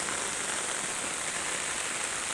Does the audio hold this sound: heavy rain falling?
yes